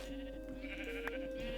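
A light grey sheep bleats in the Minecraft video game, a short wavering nasal call that sounds faint and close over a quiet steady background tone.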